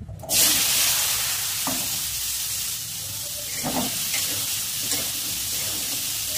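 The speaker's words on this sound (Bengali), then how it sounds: "আলু আর সোয়াবিনটা একটু লাল লাল করে ভেজে নেব।" Potatoes and soybean chunks fry in hot oil with cumin and bay leaf, a steady close sizzle and hiss running throughout, broken by a few soft stirring scrapes.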